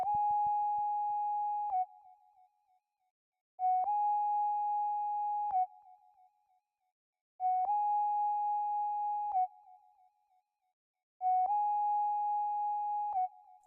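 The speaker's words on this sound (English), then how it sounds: "but the preset it is Winter Whistle" Winter Whistle synth preset in FL Studio plays a simple repeated melody: four sustained whistle-like tones, each held about two seconds with short gaps between, clean and alone.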